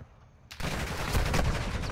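Video game gunfire erupts as a sudden loud burst after a near-silent moment, then rattles on as a dense, continuous crackle of shots.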